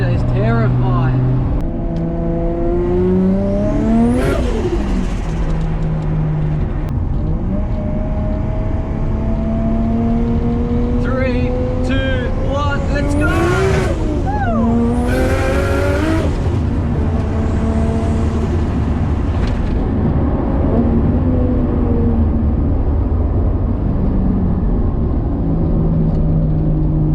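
A 550HP Nissan R33 with a 2.5 litre RB25DET engine revs and shifts on a touge mountain run, the engine note rising and falling through gears with loud steady road and cabin noise throughout.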